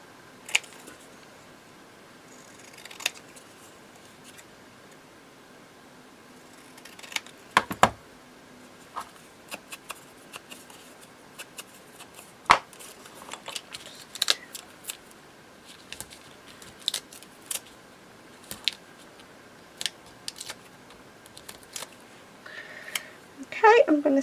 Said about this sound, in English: let's cut around it and just make it straight.